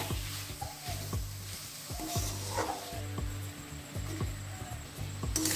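Coconut and jaggery filling stirred in a pan for kadam phool pitha, soft sizzling under a spatula scraping in short repeated strokes, close and fairly quiet.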